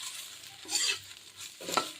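Curry leaves frying in a pan, soft sizzling under a few scraping, stirring strokes of a utensil that rise and fall in short bursts.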